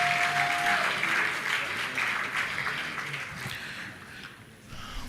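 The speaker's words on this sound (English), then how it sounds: "Give them a round of applause." Applause from an audience at a Nigerian youth political inauguration and conference, a crowd clapping steadily for several seconds then thinning, with a faint voice over it at the start.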